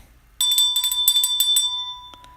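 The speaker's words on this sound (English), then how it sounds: "Let me ring the bell." A bell rung repeatedly in quick bursts, bright ringing strikes with sustained metallic tones, clear and close, then a couple of softer final dings as it fades.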